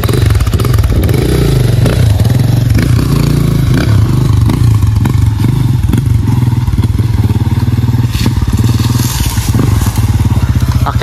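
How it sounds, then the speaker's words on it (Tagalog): A motorcycle rumbles close by with a heavy, continuous engine drone as it gets under way, over rattles, thumps and scraping clatter from the ride. "Then si kuya na magdadrive ng motor"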